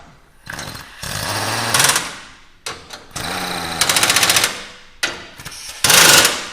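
Power tool driving coilover suspension bolts snug on a Toyota Tacoma during a 6-inch BDS lift install, three loud bursts of high-pitched whirring and rattling hammering with short pauses between them.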